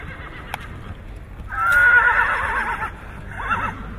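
A grey filly at a horse show lets out a loud, drawn-out whinny lasting over a second, followed by a shorter neigh, with faint background noise and a brief click before it.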